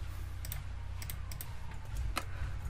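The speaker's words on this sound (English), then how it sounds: "you can probably hear my mouse and my keyboard and stuff" Computer keyboard keys and mouse clicks during a Minecraft game session, a few sparse sharp taps picked up by a sensitive microphone over a low steady hum.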